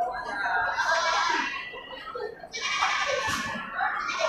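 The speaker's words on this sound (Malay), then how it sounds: "Kita akan masuk dulu untuk keliling nih kan di kawanan atau kerumunan dari domba-domba bandot." A herd of large billy goats bleats in a crowded pen, with repeated loud, nasal calls overlapping in short bursts while people talk nearby.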